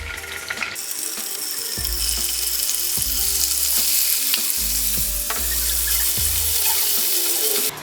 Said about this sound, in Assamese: এতিয়া ইয়াতে মই পনীৰখিনি জাস্ট অকমান শ্যালো ফ্ৰাই কৰি লম।